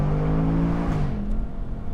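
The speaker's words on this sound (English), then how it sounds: "The exhaust, though, I mean, for a stock Ford Mustang that's not even supercharged, wow," A stock, non-supercharged Ford Mustang Dark Horse exhaust drones loud and close with a deep steady tone, its pitch easing slightly partway through, with no talk.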